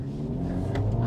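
Acura Integra Type S engine and exhaust under acceleration, a brief steady rumbling growl with rising revs heard from inside the car.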